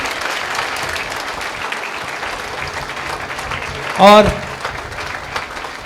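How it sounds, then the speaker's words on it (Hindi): Applause from a seated audience at a workshop on the Indian Knowledge System in India, a steady dense wash of clapping filling the clip, with a brief louder burst of whistling or cheering near the end. "जोरदार तालियां होनी चाहिए"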